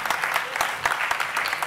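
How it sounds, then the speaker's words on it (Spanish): Audience applause at an awards event for a Spanish underwater video championship, brisk clapping with sharp individual claps standing out over a steady wash. "Un aplauso para ella también."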